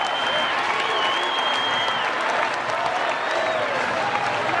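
Big college baseball crowd at LSU vs Florida keeps cheering after a Gators home run, sustained roaring applause with shrill whistles rising above it, steady and full throughout.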